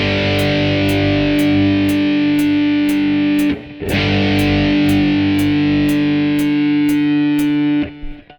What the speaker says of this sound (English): When you play a power chord, you get that distinctive rock sound, especially if you put a bit of distortion on it.